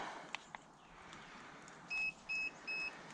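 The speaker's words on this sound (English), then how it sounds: "So I don't know why this is beeping." Three short, evenly spaced electronic beeps from a TACKlife T8 Pro lithium jump starter pack connected to a diesel vehicle sound over a quiet background hum, each about a fifth of a second long.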